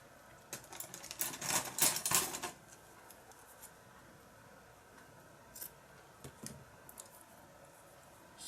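Scissors cutting paper for a handmade junk journal, a close burst of crisp snipping followed by a few lighter isolated cuts in a quiet room.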